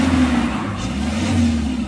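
An Isuzu Trooper with a 4JX1 diesel engine revs loudly up close, a rough sustained engine roar that swells and eases slightly and never drops to idle.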